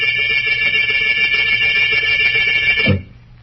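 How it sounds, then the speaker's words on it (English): Continuous electric bell ringing steadily for about three seconds as a radio-drama summons for a butler, then cutting off abruptly with a brief low thump. "Yes, Mr. Morlock, you rang?"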